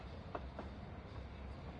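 A train running on rails in the video game Persona 3 Reload gives a low, steady rumble with a faint rattle throughout, heard alone at a quiet level.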